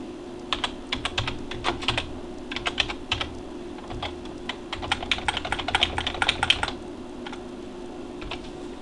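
Typing on a computer keyboard to enter commands in a text-based online game, with bursts of quick close keystrokes, brief pauses between words, and no talking.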